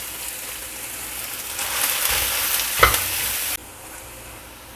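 Anchovies (ikan teri) fry in a generous amount of oil with a loud, close, hissing sizzle that swells, gives one sharp pop, and then drops suddenly to a quieter simmer.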